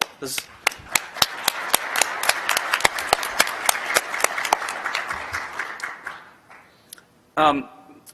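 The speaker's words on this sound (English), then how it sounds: "So I would like to give a round of applause" A conference audience at the NANOG 59 opening applauds: loud, sharp individual claps over a dense wash of clapping, fading out after about six seconds, with a brief voice near the end.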